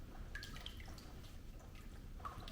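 Water dripping faintly while paper towels are soaked for wrapping garden seeds, a few soft scattered drips over a steady low background hum.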